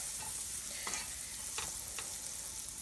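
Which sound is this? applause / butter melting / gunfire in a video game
butter melting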